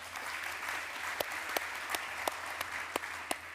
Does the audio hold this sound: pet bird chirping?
no